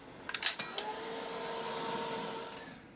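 A heat tool or hair dryer blows steadily after a few clicks and knocks, drying paint on a mixed media collage art journal page, a close, even whooshing hum that fades slightly at the end.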